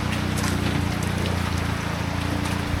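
Steady rain falls outdoors on a morning before a fishing trip, a dense, continuous wash of patter with a low rumble underneath, close and unbroken throughout.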